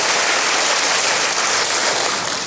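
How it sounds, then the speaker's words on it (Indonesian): A church congregation applauds during a sermon, with dense, steady clapping filling the room from many hands at once. "berikan tepuk tangan hebat bagi dia"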